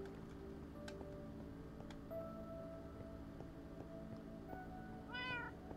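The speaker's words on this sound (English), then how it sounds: "Meow." A cat meows once, brief and clear, near the end over a faint steady hum with a few soft ticks in a video game.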